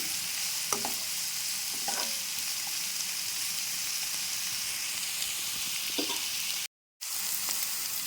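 Onions frying in oil with green chilies and curry leaves for a drumstick, tomato and egg curry, giving a steady broadband sizzle with a few soft stirring clinks and a brief dropout near the end; no talking.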